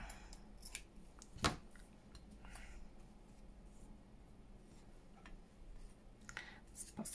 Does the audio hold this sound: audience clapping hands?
no